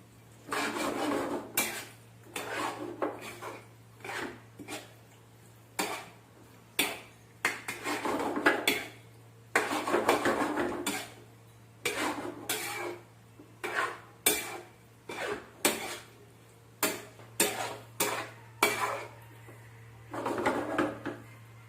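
Chicken being stirred with fresh cream in a pan off the heat, a spoon scraping and clinking against the metal in repeated bursts of stirring, close and clear with no talk.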